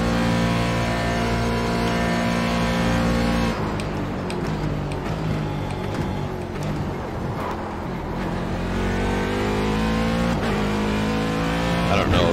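A race car engine in the iRacing sim at Daytona, held at three-quarter throttle, drones loudly and steadily with strong harmonic tones that dip and rise briefly mid-run before settling back into a sustained roar.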